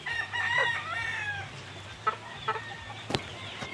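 Young pullets, about three months old, cluck and crow steadily in a backyard, with a few sharp knocks and one louder crow-like burst near the end.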